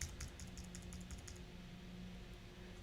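Typing on a computer keyboard, steady quick key clicks for a few seconds, faint and close, with no voices.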